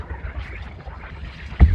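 A boat engine starts up in the INSIDE video game, a low rumbling churn of water and motor noise that ends in a loud, deep burst as the engine catches.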